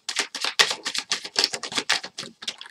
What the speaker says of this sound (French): Ici, il y a plein de cartes qui sont tombées.